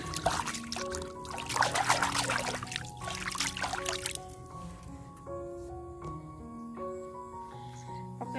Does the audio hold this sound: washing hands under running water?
yes